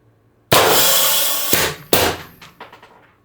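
An X-68 Punisher gun fires one loud sharp shot followed by two quick auto-fire pops, each burst ending in a short metallic rattle and fading clatter, close up with no talking.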